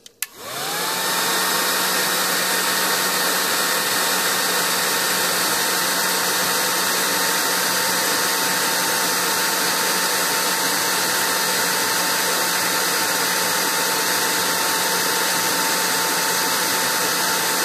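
A 1200 watt heat gun running on its high setting, switched on with a click and then blowing as a steady, loud, continuous whoosh with an even hum, close to the microphone and alone.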